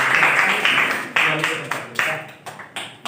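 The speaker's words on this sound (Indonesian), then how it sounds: "kita beri tepuk tangan untuk penampilan kelompok ini sekali lagi" Applause from a classroom audience for a student group's presentation, a dense burst of clapping that thins into scattered claps and trails off over about three seconds, with voices mixed in.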